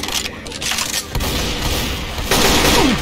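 Rapid gunfire bursts from the shooter video game Dying Flame, loud and dense, followed by a rising whoosh near the end, with excited shouting mixed in.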